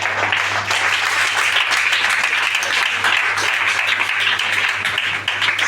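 A church congregation claps and applauds throughout, a dense, steady wash of many hands at full strength from start to finish, with a low hum running underneath.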